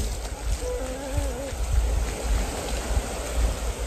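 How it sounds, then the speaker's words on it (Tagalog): A strong stream rushes steadily outdoors near a grotto, a dense close roar of flowing water with a faint brief whistle-like tone partway through. "ang lakas ng tubig na dadaanan natin"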